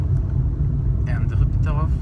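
Low road rumble fills a moving car interior, a steady engine drone with brief voices talking over it in the second half.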